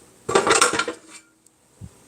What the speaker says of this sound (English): two of these pans fell into the sink